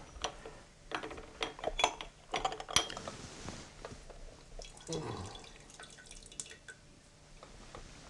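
Water trickles and drips into a teapot with scattered clinks, and a short pour rises in pitch as the pot fills, all fairly quiet and close.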